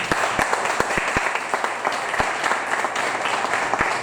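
A church congregation at a sermon applauds steadily, a dense mass of clapping with a few sharper individual claps standing out, holding a constant level throughout.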